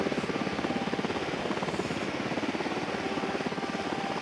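Helicopter rotor and engine noise from the Ghost Recon Wildlands video game, a steady loud rhythmic thumping chop that holds throughout without any speech.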